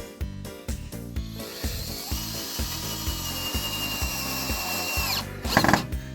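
Rapid bursts from a power drill driving a screw into wood that strikes metal partway, a chain of short whirring pulses followed by a longer steady run, close and fairly loud.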